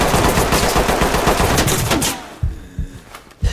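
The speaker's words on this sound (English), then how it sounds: "He's gonna start shooting again." Rapid automatic gunfire fired through walls in the video game Ready or Not, a dense loud burst for about two seconds, then a few separate heavy thuds and shots after it stops.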